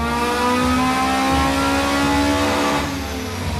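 A Honda Civic revving hard on a dyno, a loud, sustained high-rpm engine howl held near the limit, then easing off slightly toward the end, close and unbroken.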